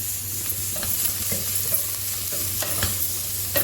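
Two medium-sized chopped onions frying in a pan for a potato gravy, with a steady close sizzle and periodic scraping stirs, no voices.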